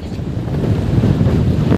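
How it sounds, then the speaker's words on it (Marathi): Fast-flowing released river water rushing beneath a bridge in Munnar, Kerala, a loud continuous roar with steady wind-like rumble that cuts off abruptly at the end. "खाली बघा हे पाणी सोडलेलं आहे एकदम खूप जोर जोर स्पीडमध्ये पाणी चाललं आहे."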